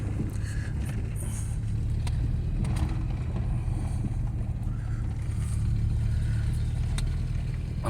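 A 1992 Ford Ranger flatbed pickup drives in second gear, its engine a steady low drone with road and wind rumble filling the cabin, continuous and close, without any talk.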